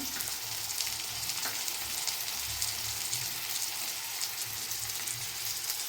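Jackfruit frying in a pan with spoonfuls of onion paste, giving a steady, close sizzle with a soft bubbling crackle and occasional stirring scrapes, with no talk.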